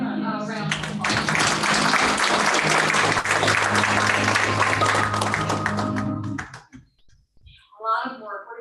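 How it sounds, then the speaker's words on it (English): A school board meeting audience applauds steadily for about six seconds, dense and fairly loud, with talk over the start before the clapping cuts off and a voice follows. "Let's give them a round of applause"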